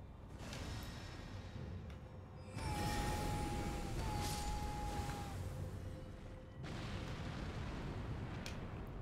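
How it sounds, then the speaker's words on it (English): Explosions in the video game Elden Ring, played with the Convergence mod: a loud, sustained roaring blast that swells at once and rumbles on, dips briefly, then returns just as heavy over a low droning background. "That explosion is so loud."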